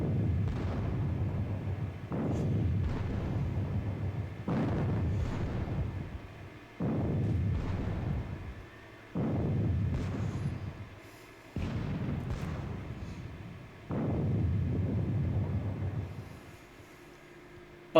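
Artillery fire in a Napoleonic wargame of the Battle of Friedland: seven booming, rumbling cannon blasts arrive about every two seconds, each with a sharp onset and a long rolling decay, distant-sounding and with no voices.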